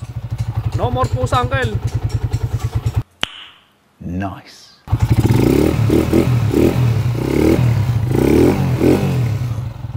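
A motorcycle engine freshly converted to 200cc runs close by, first with a rapid, evenly pulsing idle, then after a short pause it revs loudly in repeated bursts. People talk briefly in between.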